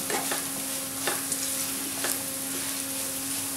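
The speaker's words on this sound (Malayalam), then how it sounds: "ഇതെല്ലാം കൂടി ഒന്ന് മിക്സാക്കി നന്നായിട്ടൊന്ന് വഴറ്റി കൊടുക്കണം" Liver fries with chili powder in a pan, a steady close sizzle broken by several sharp scraping stirs of a spoon at roughly one-second intervals.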